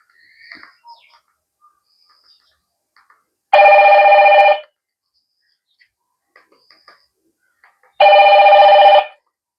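A keypad mobile phone ringtone plays two short, loud, electronic bursts several seconds apart, with faint clicks and chirps in the quiet between them.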